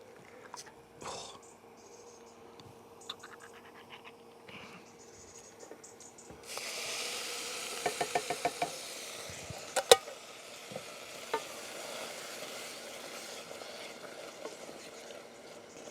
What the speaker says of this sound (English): Right, in with the tomatoes now then.